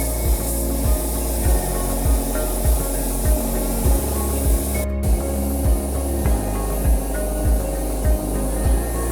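A steady hiss of red spray paint onto metal runs throughout, with a rhythmic low thumping pulse underneath and a brief break near the middle.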